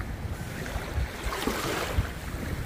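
Winter sea waves wash in at Songdo beach in Pohang, with a broad, rushing hiss of surf and wind buffeting the microphone and a few louder swells breaking close by.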